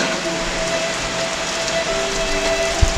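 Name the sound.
heavy rain pouring during a mountain ride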